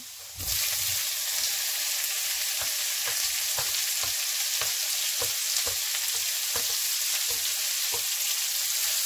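Oyster mushrooms stir-fry in a hot pan with a steady, close sizzle throughout, broken by regular scraping and tapping strokes of a utensil against the pan.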